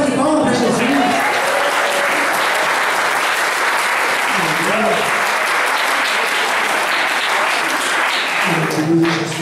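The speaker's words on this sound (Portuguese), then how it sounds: "dá uma salva de palmas para Jesus" A church congregation applauds at an evening service, with dense steady clapping over several seconds and a voice heard over it near the start and end.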